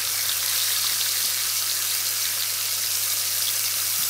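Bacon frying in a pan, turned with a small wooden spatula, gives a steady, close, continuous crackling sizzle with no talk over it.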